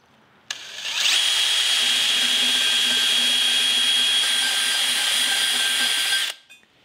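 A rotary tool fitted with a carbide bit grinds inside an engine intake runner, a loud high-pitched whine that spins up and holds steady for about six seconds before cutting off, close by and with no talking.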